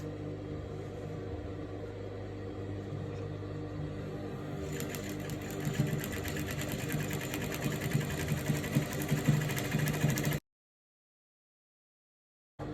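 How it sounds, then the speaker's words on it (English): A sewing machine stitches the center back seam of a skirt, humming quietly at first and then running louder and faster in a steady whirring rhythm before stopping abruptly. "I'll match my center back line and I'll sew."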